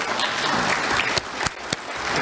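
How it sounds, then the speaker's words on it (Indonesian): Dense, sustained applause from a large audience at a formal gathering, steady and loud throughout with a few sharper claps standing out, and no talking over it. "Tepuk tangan untuk kita semua."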